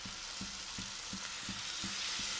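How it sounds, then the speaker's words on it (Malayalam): Steady hiss of paneer gravy sizzling in a hot kadai as water is poured in, with a regular low scraping beat of stirring, about three strokes a second, close by. "ഇനി നമുക്കിതിനകത്ത് വെള്ളം ഒഴിക്കാം."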